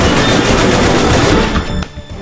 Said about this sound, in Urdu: آس پاس کی عمارتوں پر پوزیشن سنبھالے پولیس اہلکار ان پر مسلسل فائرنگ کر رہے ہیں